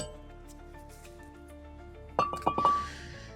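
A hammer strikes the brake rotor of a 2011-2015 Chevy Cruze to free it from the hub, producing a quick cluster of four or five sharp metallic clanks with a ringing tone after a quiet stretch.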